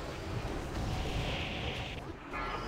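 A rumbling blast in a video game, a broad roaring explosion with crackling debris that fills the clip and briefly dips before resuming, dense and loud.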